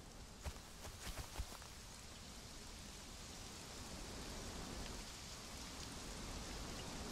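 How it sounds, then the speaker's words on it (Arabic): Rain falling in the video game Conan Exiles, a soft steady hiss of rainfall with a few faint taps early on, quiet and continuous with no talking. "هذه مطرت مرة ثانية"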